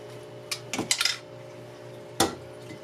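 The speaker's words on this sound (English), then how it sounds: "So we're going to add the noodles real slowly." Noodles go into a casserole pot for a cheap comfort casserole, with a few close clinks and clatters of utensil against the pot in short bursts separated by quiet pauses.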